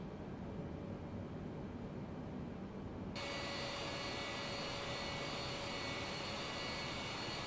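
Steady, broadband roar of a Boeing 787 airliner's engines in a flight simulator, flying low along the Gold Coast. The tone turns brighter and hissier partway through, with no talking.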